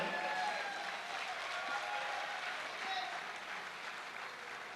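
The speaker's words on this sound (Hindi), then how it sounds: "जरा जोरदार तालियों के साथ हमारे न्यू डायमंड का स्वागत करते हैं स्टेज पे।" An audience applauds steadily at a stage celebration event in Agra, welcoming a new diamond-level member. The clapping is dense and continuous throughout.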